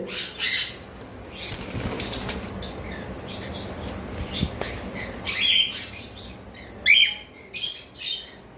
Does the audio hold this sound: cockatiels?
yes